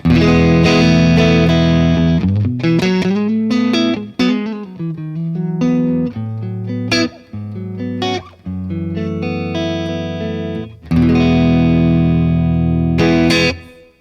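Distorted electric guitar played alone through an HX Stomp with no compressor, sustained notes and bends with a thick uncompressed tone and sharp attacks, loud and close.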